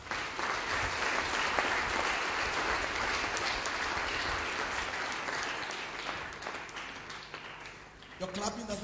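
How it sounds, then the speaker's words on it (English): A church congregation breaks into a round of applause during a sermon. Dense, sustained clapping fills the room, gradually thinning toward the end. "If you love Jesus, give a round of applause."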